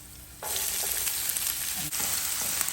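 Chayote and mussels fry in a pan at close range, a steady loud sizzle that holds throughout, with occasional stirring scrapes and clinks over it and no voices.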